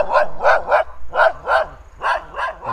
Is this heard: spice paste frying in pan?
no